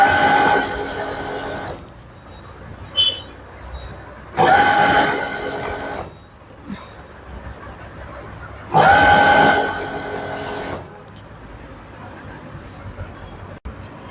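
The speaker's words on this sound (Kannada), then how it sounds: "ನೋಡಿ ಈ ತರ ಸೆಂಟರ್ ಒಂದು ಸ್ಟಿಚ್ ಹಾಕೊಂಡ್ಬಿಡಿ ಸಾಕು." Sewing machine runs in three short loud bursts, stitching elastic onto fabric for pushpak pants, with quieter pauses and faint handling noises between runs.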